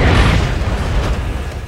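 A base blowing up in the video game Red Faction 2, a loud deep booming explosion that rumbles on and slowly fades, with no talking.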